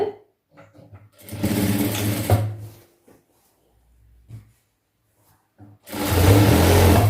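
A sewing machine stitches pant fabric in two close, loud bursts, the first about two seconds long and the second starting near the end. Quiet handling sounds and faint rustles fall in the pause between them.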